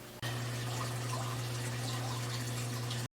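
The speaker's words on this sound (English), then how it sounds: "the noise of the water running makes for a very relaxing room" Water runs steadily in an indoor room filled with plants, a soft, continuous splashing flow with a faint steady hum beneath, starting abruptly and cutting off at the end without any talk.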